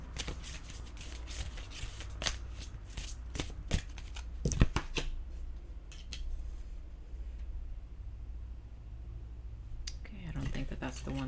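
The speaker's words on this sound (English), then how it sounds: "I think that was just my clumsy shuffling" Tarot cards being shuffled clumsily by hand, with sharp riffling snaps and irregular slaps in clusters, close and fairly loud, followed by quieter handling near the end.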